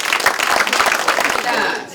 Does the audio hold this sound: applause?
yes